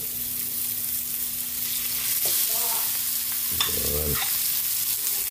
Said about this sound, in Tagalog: Lagyan na rin natin yung ating pork giniling.